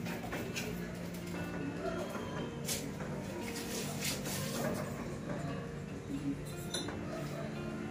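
A ceramic teapot's strainer and lid handled up close, giving light clinks and taps scattered through the clip over a low background hum.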